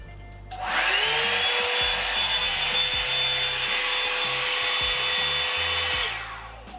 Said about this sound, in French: C'est un sèche-cheveux qui vient avec 3 niveaux.